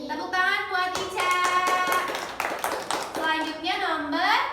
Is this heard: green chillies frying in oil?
no